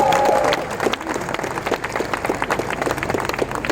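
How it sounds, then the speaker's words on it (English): A wedding crowd claps and applauds loudly, a dense continuous patter of many hands, with a brief tone at the start. "give the loudest round of applause for this fantastic family"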